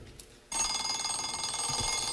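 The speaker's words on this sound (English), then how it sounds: "it's the sound of the alarm clock" An alarm clock bell starts abruptly and rings continuously, loud and rattling, after a brief quiet moment.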